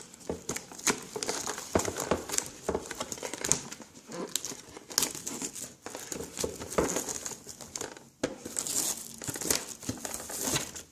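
Plastic and cardboard packaging of a Pokémon Yveltal collection box crinkles and tears in irregular bursts, close and fairly loud, with scattered crackles as it is pulled open.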